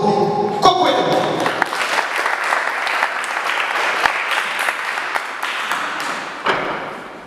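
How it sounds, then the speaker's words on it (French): Audience applause greets a speaker at an international conference on engagement in Africa, a dense sustained clapping that fills the room, with a few sharper claps and thumps, then tapering slightly near the end. "Sous vos applaudissements, mesdames et messieurs, Monsieur Rodrigo Coquelin."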